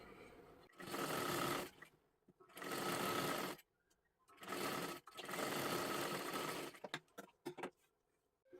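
A sewing machine stitches along the edge of a puffed garment sleeve in four long, loud runs with short pauses between them, followed by a few quick stop-start bursts.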